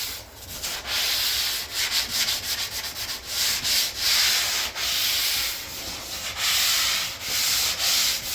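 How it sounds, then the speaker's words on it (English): Steady back-and-forth sanding of a drywall repair patch over old tape during interior painting prep, close and continuous with a rhythmic scraping rasp and brief pauses, no talking. "And go through and sand this out."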